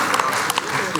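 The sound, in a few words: audience applause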